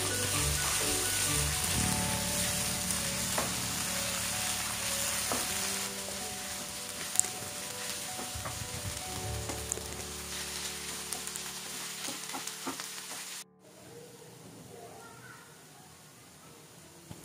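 Spinach paste frying with a dry red chili in a pan, a steady close sizzle with occasional stirring clicks that goes quieter near the end.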